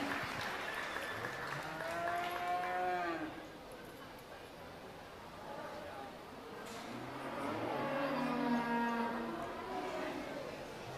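Beefmaster and Brangus heifers at a youth livestock show, with several moos and lowing calls rising and falling over a steady crowd murmur.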